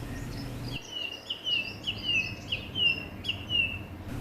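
A song thrush sings from a chimney pot in a garden, a series of clear, repeated bright phrases in fairly regular bursts, moderately close, over faint background hiss.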